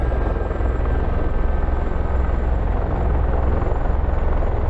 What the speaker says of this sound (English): And that beep beep beep is our rotors